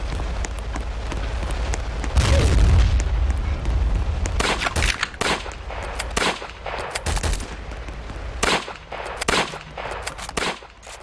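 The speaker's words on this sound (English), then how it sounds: "We're getting shot at." Dense bursts of gunfire in a Roblox beach-landing battle game, rapid automatic volleys and single shots crackling loudly, with heavy booms and a steady roar beneath.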